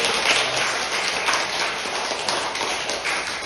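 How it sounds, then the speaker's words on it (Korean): An Anglican congregation in a Bucheon church gives warm applause, a close, dense patter of many hands clapping evenly for several seconds with no talking over it. "우리 축하의 박수 한번 해주세요"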